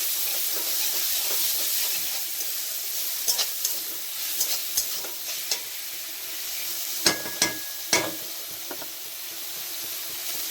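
Biryani ingredients stir-frying in a pan, a steady loud sizzle with repeated spatula scrapes and knocks against the pan, growing sharper toward the end.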